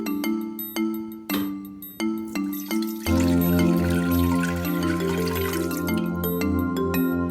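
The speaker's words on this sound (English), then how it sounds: "Now add 2 cups of water to the pot." Two cups of water poured into an Instant Pot for Vietnamese meatballs: a few separate drips first, then a steady, close pouring wash with a bright ringing tone over it, no talking.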